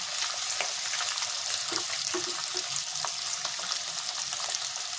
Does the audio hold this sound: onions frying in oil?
yes